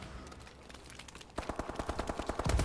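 Call of Duty: Advanced Warfare gunfire: after a softer stretch of background game noise, a rapid automatic burst of evenly spaced shots rings out close and loud for over a second.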